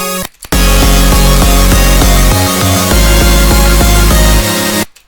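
A dense, chopped-up synth passage from a breakcore track plays loud and continuous for about four seconds. Rapid pulsing stutters cut through it, and it ends abruptly.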